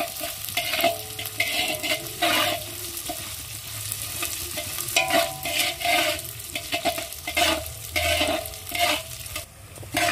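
Moong dal being fried in oil and stirred in a pot, loud crackling sizzle broken by repeated scraping strokes of a spoon in an uneven rhythm, close up throughout.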